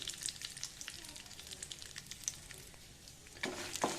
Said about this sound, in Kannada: ಶೇಂಗಾ ಚೆನ್ನಾಗಿ ಫ್ರೈ ಆಗಬೇಕು.